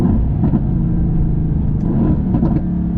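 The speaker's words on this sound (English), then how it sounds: "listen to these downshifts" An AMG GT S engine rumbles loudly and close, with short blips of revving as gears downshift in Sport Plus automatic mode, steady throughout.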